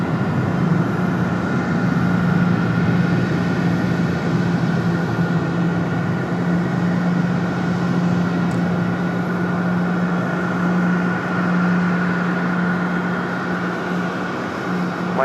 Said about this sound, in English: Here comes our FedEx 767